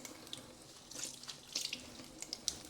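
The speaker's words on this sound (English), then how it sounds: "run the water" Tap water trickling slowly over a glaze test on a ceramic piece, a faint, soft running flow with small splashes and drips, no voices.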